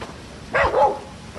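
A dog at a villa property gives a short burst of one or two close barks over quiet background noise, with no one talking.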